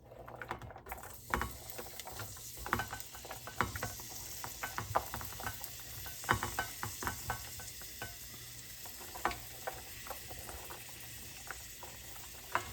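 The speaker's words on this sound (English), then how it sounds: "we'll cook the hamburger." Hamburger meat cooks in a pan with a continuous crackling sizzle and frequent sharp ticks and scrapes from stirring, close and busy throughout with no voices.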